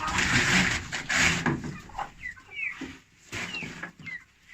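Buff Brahma chickens, a rooster and his hens, cluck and chatter nearby in short bursts, with a few higher squawks mixed in among the flock.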